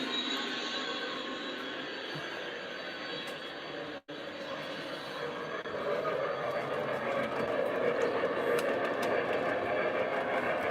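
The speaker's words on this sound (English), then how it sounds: "Let's go over to the curve and watch the gondola train over there." A model gondola train runs on a 1:48-scale scrap-yard diorama layout, giving a steady, close rumble with a brief dropout partway through that then builds slightly louder, with no voices.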